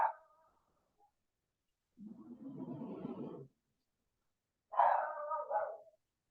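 Dog barking indoors during a lesson: a short bark, then a longer rough muffled growl-bark, then a louder yelping bark, each separated by quiet.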